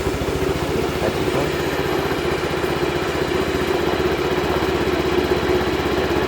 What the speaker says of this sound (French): moi je démarre au kick, c'est plus sympa. Donc combien de coups de kick il faut mettre pour le démarrer?